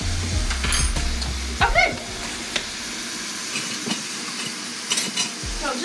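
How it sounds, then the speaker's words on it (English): Ground beef and Italian sausage sizzle steadily in a pan, with a continuous close frying hiss broken by stirring scrapes and utensil clinks, and a brief word spoken over it. "we're gonna cook down the ground beef and the Italian sausage together"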